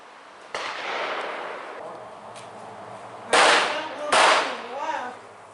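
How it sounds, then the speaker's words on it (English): A .44 Special revolver fires at an outdoor range, giving three sharp, loud reports with the last two closer together, each followed by a short echoing tail. "I'll finish up and shoot the rest of this box up"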